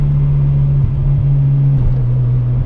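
A sports car engine, a Mazda RX-7 or Porsche 993, drones loudly and close with a steady, even hum that holds nearly constant pitch, dipping slightly a few times, with no voices.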